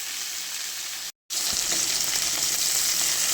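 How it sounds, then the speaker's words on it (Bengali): Okra frying in a pan with salt and turmeric, a home-cooked dish: a loud, steady sizzle close by, broken by a brief moment of silence before the frying hiss returns, with no talk. "নুন আর হলুদ দিয়ে ভেজে নেব।"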